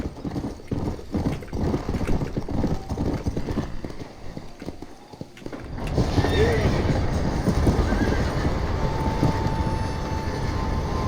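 Horses clip-clopping in the video game Red Dead Redemption, a quick, even rhythm of hoofbeats that gives way to a louder, steadier rumbling clatter, with a voice speaking over it.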